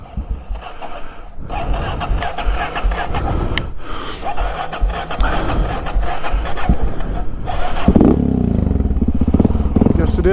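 Honda XR650L motorcycle engine being cranked and firing up after lying upside down, with rough sputtering bursts that catch and settle into a loud idle near the end, with a voice talking over the first part.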